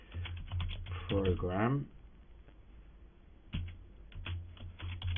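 Clicky keystrokes from a computer keyboard while code is typed, a steady patter of soft taps in short bursts, with someone speaking over the first half and typing resuming alone near the end.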